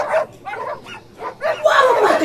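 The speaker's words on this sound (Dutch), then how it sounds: "Waarom maken die honden toch zo lawaai?" Several dogs barking and yipping in repeated bursts, fairly close and loud, with a rising clamor toward the end; no speech over them.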